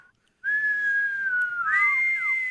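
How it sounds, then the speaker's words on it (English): A person whistles a sustained, clear tone close to the mic, holding a long note that slides down, then rising and falling in a second, brighter phrase after a brief silent start. "Now we're just whistling for fun"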